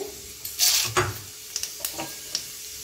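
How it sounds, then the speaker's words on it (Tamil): Whole spices, cinnamon, cloves, fennel and peppercorns, go into hot oil in a pan for chicken chukka, giving a brief loud sizzle and then a few light clinks of a spoon on metal, with no talk. "இப்போ இதில் பட்டை, லவங்கம் போடுறோம், சோம்பு,"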